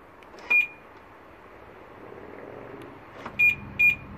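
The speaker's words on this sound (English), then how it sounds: "you'll hear a beep when the car locks or unlocks" Three short electronic beeps from a BMW F01/F02 locking or unlocking ring out, one early and a quick pair near the end, over a quiet outdoor hum.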